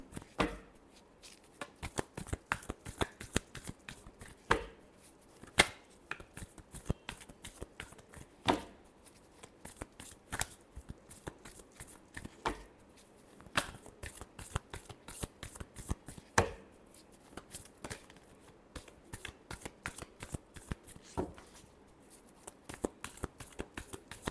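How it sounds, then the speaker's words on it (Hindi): Tarot cards being shuffled by hand, a long run of quick crisp riffling flicks and slaps in steady bursts, close and fairly quiet with no voices over it. "last shuffle"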